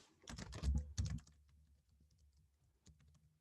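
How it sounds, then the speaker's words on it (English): Keys clatter rapidly on a computer keyboard while an email address is typed, a dense burst of clicks for about a second followed by fainter, sparser taps. "I will type my email in the chat."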